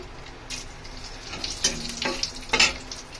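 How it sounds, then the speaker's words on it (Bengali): Oil sizzles steadily as paneer fries in a pan, with louder bursts of crackling toward the end. "সব থেকে আগে পনিরগুলো ভেজে নেব।"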